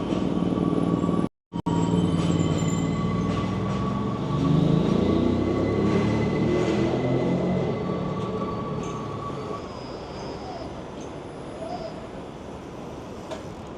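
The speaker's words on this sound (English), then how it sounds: "Taipei Metro." Taipei Metro subway train running, a loud rumbling roll with a steady high whine, briefly cut out near the start, swelling in the middle and then easing off as the train moves along.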